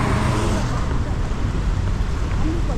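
Dense roadway traffic in a jam rumbles steadily close by, a continuous loud wash of engines and tyre noise with some wind buffeting the microphone.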